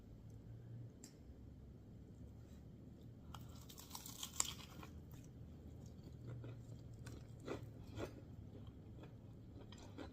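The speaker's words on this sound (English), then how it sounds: "Y'all hear that crunch?" Crunching into freshly fried chicken, with a few faint, crisp bites and crackles scattered over a low background hum, close but quiet.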